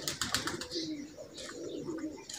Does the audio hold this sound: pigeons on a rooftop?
yes